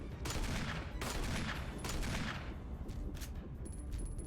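Rapid gunfire fills a scene in the Resident Evil remake, a dense run of loud bursts. A few sharper shots stand out against a constant noisy background.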